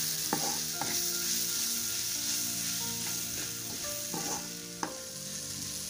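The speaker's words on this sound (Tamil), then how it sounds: "இது ஒரு 5 நிமிஷம் நல்லா வந்து வதங்கணும்." Banana flower sautés in a pan with a constant close sizzle, while a spatula stirs and clinks against the metal in scattered scrapes and taps.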